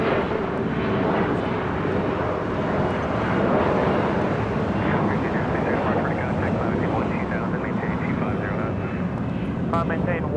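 Lufthansa Boeing 747 'Queen' jet airliner on the north side at LAX, a steady loud engine roar that holds for the whole stretch, with talk and radio chatter running over it.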